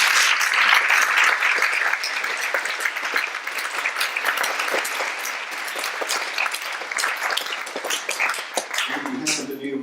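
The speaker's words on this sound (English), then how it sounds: "Could we give another round of applause?" Another round of audience applause at a tribute event, loud and sustained for about nine seconds, thinning slightly before a voice starts speaking at the very end.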